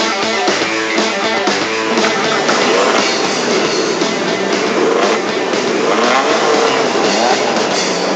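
Skip Barber open-wheel race car accelerating hard on a track out of a corner, a loud, sustained engine drone with steady rising pitch and no pauses, close and alone throughout.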